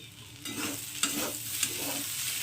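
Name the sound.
stirring salt into frying potatoes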